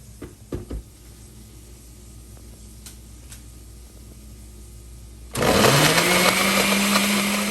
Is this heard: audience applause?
no